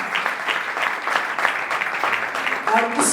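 A church congregation claps during a Mother's Day sermon, steady dense applause from many hands filling the room, fairly loud and continuous for the whole stretch.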